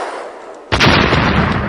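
An abrupt, loud blast as a missile fired in a video game demo strikes a wall, with a sharp broadband onset at once giving way to a sustained, rumbling roar that holds through the rest of the moment, with no talking.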